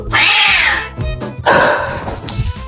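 An angry cat yowls in two loud, drawn-out, strained meows, one after the other, with a short gap between them.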